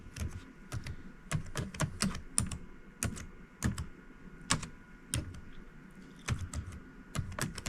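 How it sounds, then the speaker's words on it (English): A password is keyed in on a computer keyboard: a quick, irregular run of soft key taps, close and fairly quiet, with no talking. "he or she comes over and keys in their password."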